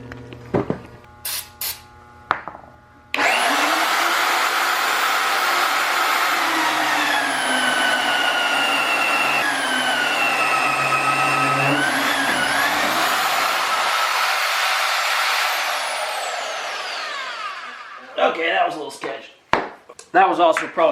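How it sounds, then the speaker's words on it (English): A Winter Equipment Xtendor wing on a plow blade extends with a loud, steady whine and whir of hydraulic machinery that shifts in pitch for about twelve seconds. Short clanks come before it and brief sounds come after. "we need to extend this wing out"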